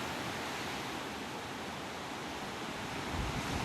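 Large waves whipped up by a typhoon roar in a steady, dense wash of surf with wind blowing across it, loud and unbroken, and no voices.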